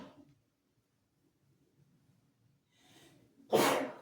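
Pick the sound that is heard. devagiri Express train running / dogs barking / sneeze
sneeze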